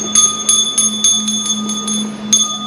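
A bell is struck repeatedly at a Vietnamese Buddhist temple before a nun's chanting over an offering of food, about eight bright metallic strikes in a steady rhythm with long ringing overtones and a low hum underneath.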